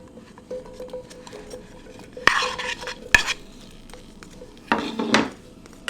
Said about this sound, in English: Put it on the pan. And you're gonna dump the potatoes in.